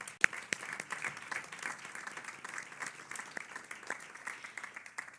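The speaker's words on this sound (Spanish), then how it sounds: "los despedimos con un fuerte aplauso" A conference audience at an electoral justice event applauds steadily throughout, a dense, moderately distant wash of many hands clapping with scattered sharper individual claps and no speech on top.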